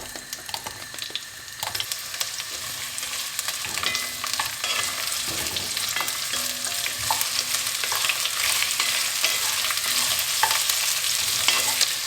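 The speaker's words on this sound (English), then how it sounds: "Next, we saute the onions." Onions sauté in a pan for a beef caldereta stew, giving a steady close sizzle that grows slightly louder and is dotted with frequent clicks and scrapes of stirring.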